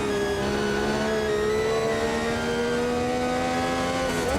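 Brabham BT46B Formula One race car engine, a loud sustained high-pitched roar that climbs steadily in pitch as it accelerates, heard continuously and close throughout.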